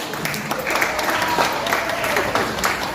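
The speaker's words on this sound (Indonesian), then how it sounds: "terima kasih, tepuk tangan" A lecture audience in Jakarta applauding steadily, with scattered claps and some murmuring voices mixed in, moderately loud throughout.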